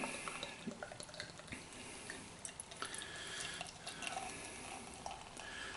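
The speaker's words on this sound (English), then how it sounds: "I'm going to pour the Ghost Ship into a Grolsch glass" Ghost Ship beer splashes and trickles steadily into a Grolsch glass, a soft continuous pour with small drips, no voices.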